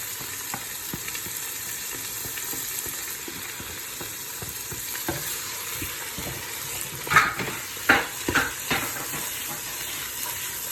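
Mixed diced vegetables frying with onion in a pan for vegetable rice with chicken, a soft steady sizzle with occasional scraping clinks as they are stirred.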